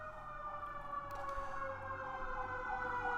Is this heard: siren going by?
yes